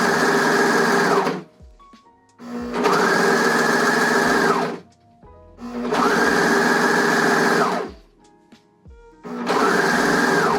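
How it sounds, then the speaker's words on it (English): A sewing machine stitches along the edge of swimsuit fabric with no tension, in four loud, steady whirring bursts separated by short pauses, close up and without talk. "I'm just sewing it to the edge."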